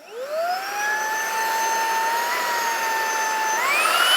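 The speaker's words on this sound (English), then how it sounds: "Now looking at the handheld vacuum, so this is kind of cool. So you have your different mode button, and then you just hold the trigger to turn it on." An Ecovacs DEEBOT T30S handheld vacuum whirs up to speed and runs steadily with a high, rising motor whine, then steps up in pitch near the end as the mode changes; close and loud, with no talking.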